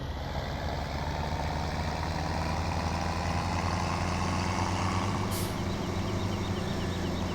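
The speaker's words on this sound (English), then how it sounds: "The audio of the tractors now, they sound a lot more like beefed up." A tractor engine in the video game Farming Simulator 17 drones steadily with a deep, beefy rumble and constant idling tone, loud and continuous with no talk.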